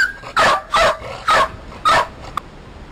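A dog barks four times in a steady rhythm, close and fairly loud, with short quiet gaps between each bark.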